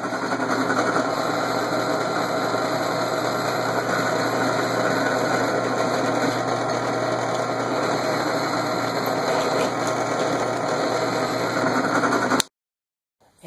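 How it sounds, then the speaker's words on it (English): A drill bores pilot holes with a 1/8 inch bit, likely into wood for a router dovetail jig, giving a steady, loud, continuous whine for about twelve seconds before stopping abruptly. "I've got an 1/8" pilot bit to pre-drill all of my holes"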